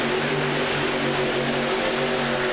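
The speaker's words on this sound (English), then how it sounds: "These amazing little machines putting out so much power, so much noise." A powerful tractor-pulling engine roars at full throttle in an indoor arena, a dense, constant, loud drone with steady tonal hum underneath, no pauses or voices.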